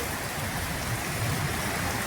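Heavy rain pours down in a village, a dense, even hiss of falling water that stays loud and unbroken throughout, with no voices.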